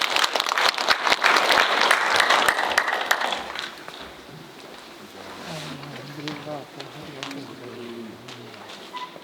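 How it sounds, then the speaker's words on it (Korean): An audience at a forum applauding for about four seconds, the clapping then dying away to quiet room sound and talking. "박수로 맞아주십시오"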